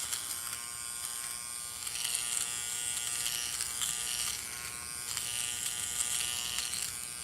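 A small electric trimmer buzzes steadily and close while trimming nose hair, its tone rising and easing slightly as it works, with no talking heard.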